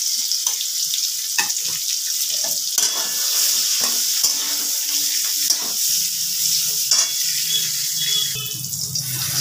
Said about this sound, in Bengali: বেগুনগুলো আমার ভাজা হয়ে গেছে